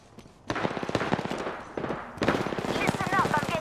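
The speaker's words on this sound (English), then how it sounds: "I'm getting shot at" Rapid automatic gunfire from the shooter game Apex Legends crackles in close, dense bursts throughout, growing heavier partway through over a mix of game effects.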